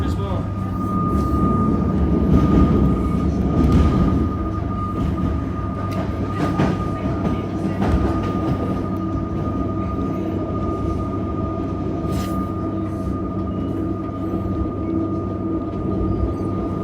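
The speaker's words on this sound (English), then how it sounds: "This train here is VL24." Metro train VL24 running, a loud steady rumble with rail clatter and a sustained electric whine heard from inside, while a person talks over the noise.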